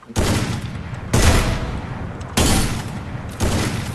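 Four loud bursts of rapid video-game gunfire, each a sustained rattling volley lasting about a second, separated by short gaps with no talk.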